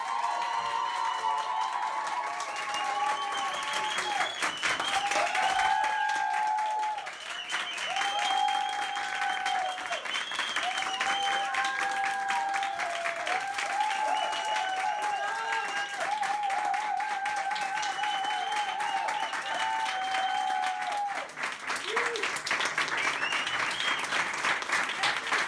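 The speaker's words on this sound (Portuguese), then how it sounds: "Nós fizemos uma espera ao Júlio César e recebemos-lo com este aplauso" Cast and crew on a Portuguese telenovela set break into sustained applause for a senior actor after his final scene, long and steady clapping with occasional cheers and murmured voices, while a high whistling tone drifts through the background.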